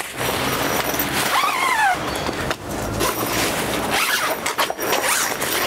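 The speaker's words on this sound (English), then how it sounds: "So you zip up roll-up doors." A long zipper is drawn along the roll-up door of an AOR Sierra tent in a few steady strokes, close and loud, with fabric rustling between pulls.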